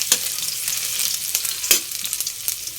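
Garlic turning golden in hot oil with ginger added, making a lively close sizzle broken by sharp spatula scrapes and clicks as it is stirred.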